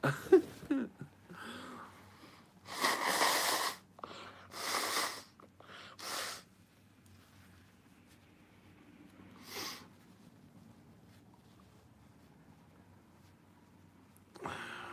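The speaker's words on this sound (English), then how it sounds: "I will blow my nose." Several loud, broad nasal blasts from a person blowing their nose, in bursts around the middle with quieter breathy noise between and one more burst near the end, close up.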